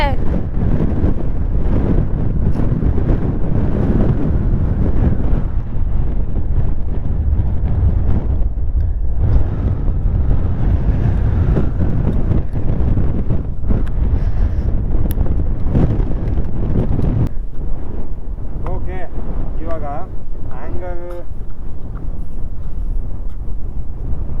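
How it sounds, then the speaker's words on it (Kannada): Heavy wind buffets the microphone on a hilltop peak, Baradi Betta, in a constant loud roar, with brief voices and laughter breaking through near the end. "ಸಿಕ್ಕಾಪಟ್ಟೆ ಗಾಳಿ ಇದೆ"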